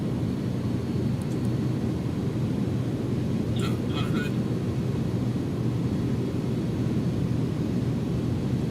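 Steady, loud broadband roar of an iniBuilds A300 airliner's jet engines as power is added during approach in X-Plane 12, a continuous wash of noise with no break.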